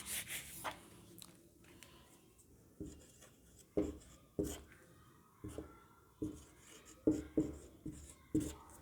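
Handwriting on a board during a classroom lesson produces soft, scratchy strokes in quick rhythmic bursts, growing more regular and distinct toward the end, quiet and close with no clear talking.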